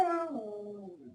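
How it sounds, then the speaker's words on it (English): A pet dog at home gives a brief, harmonic whining bark that slides downward, close and fairly faint, with no talk over it. "She's barking at Jasmine"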